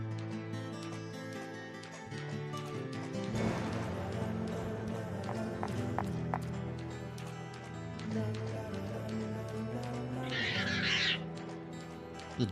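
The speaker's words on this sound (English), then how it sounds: "The demon birds? What the hell's going on there?" Eerie bird calls in the Deadly Premonition video game rise over droning game music and ambience, with a sharp burst of shrill calling near the end.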